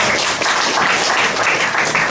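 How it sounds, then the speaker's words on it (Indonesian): Church congregation bursts into brief, loud, dense applause during an Indonesian Pentecostal service, a short wash of clapping with no pause. "Beri tepuk tangan untuk Tuhan."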